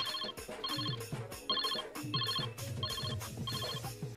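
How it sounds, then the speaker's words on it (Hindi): A mobile phone rings with a melodic electronic ringtone, repeating in regular bursts about six times over a few seconds at a steady, fairly close level with no talking. "फोन बजा तेरा, फोन उठा।"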